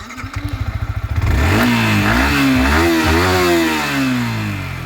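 A Yamaha R15M V4 motorcycle engine cranks with a rhythmic starter chug for about a second, then fires up. It revs briefly and settles into a loud, close, steady running note.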